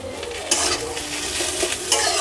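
A spoon stirs a spiced, chilli-salted potato filling for aloo paratha in a hot pan, scraping and sizzling with a few sharper knocks against the metal, close and fairly loud.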